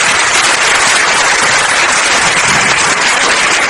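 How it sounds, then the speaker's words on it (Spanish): Steady, dense applause from an audience at a talk, loud and continuous throughout with no pauses and no voices on top. "Aplaudan todos, por favor."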